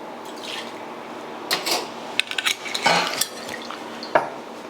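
Bacardi Carta Blanca rum goes into a cocktail with a brief liquid pour among close clinks of glassware and bar tools, and a few sharp knocks.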